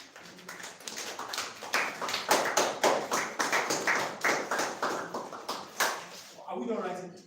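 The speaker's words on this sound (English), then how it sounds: "Let's clap for him." Students in a maths classroom clap for a classmate in a quick, steady rhythm of sharp hand claps that sounds like a coordinated group clap, with a voice briefly heard near the end.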